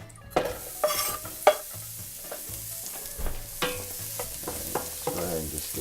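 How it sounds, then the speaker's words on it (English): Shallot cooking in melted butter in a pan, with a soft sizzle and stirring scrapes repeating throughout, close and fairly quiet, no talking. "Let's go ahead and just get the shallot in here and start cooking a little bit."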